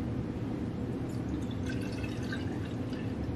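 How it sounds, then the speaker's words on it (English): Milk pours steadily into a jar, a close, continuous liquid gurgle with faint dripping and splashing, with no talking. "We're gonna just pour the milk"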